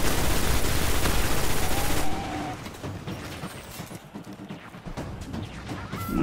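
Gunfire and grenade blasts in the Destiny video game: a dense wall of rapid shots and explosions that cuts off abruptly, followed by scattered, quieter pops and impacts in a lull, with no voices.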